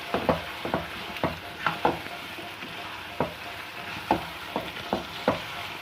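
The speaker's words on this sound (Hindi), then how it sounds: "अब अदरक लहसुन डाल के इसको अच्छे तरीके से इसको भूनना है।" Ginger and garlic sizzle in hot oil in a karahi for chicken karahi, with a steady frying hiss broken by regular scraping stirs close by.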